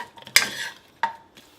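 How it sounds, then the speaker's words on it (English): Spices and aromatics (pandan, a cinnamon stick, lemongrass and curry leaves) are stirred in a pot for a prawn curry, giving two short scraping clatters of a utensil against the pot with quiet gaps between them. "So in the pot, and give it a little stir."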